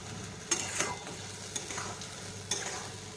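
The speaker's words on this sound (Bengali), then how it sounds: "গাজর আর আলু ভাজছি" Carrots and potatoes fry in a pan for spicy semolina, giving a quiet, steady sizzle broken by a few sharp stirring clinks of the utensil.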